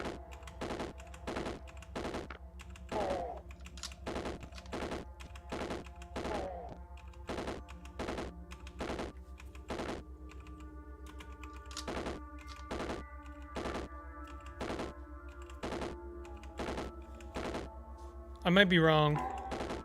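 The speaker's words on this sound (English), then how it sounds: "I think that the sound effect for the pistols is really weak" Rapid semi-automatic pistol fire from the video game Caves of Qud, a long run of sharp evenly spaced shots with a thin, light report, continuing with a brief spoken voice over it.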